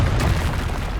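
Fiery Confringo spell blast in the Hogwarts Legacy game, a loud, close, low explosive boom with a rumbling tail over about a second.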